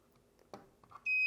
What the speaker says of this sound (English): That long beep confirms that now the remote is paired with the smart blind motor.